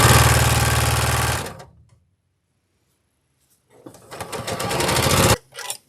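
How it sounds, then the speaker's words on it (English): Sewing machine stitching scrappy quilt block pieces together, running in a loud steady burst, pausing into near silence, then starting up again for a second run with a brief stop and restart at the end. "I've got two pieces sewn together here, so I'm just going to go ahead and sew this on"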